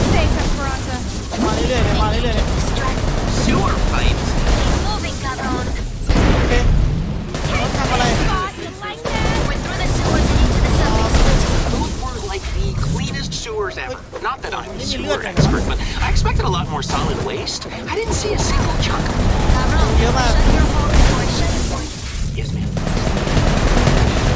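Gunfire in the action shooter Sunset Overdrive, dense and almost continuous rapid shots and blasts throughout, mixed with loud game effects while a player talks excitedly over them.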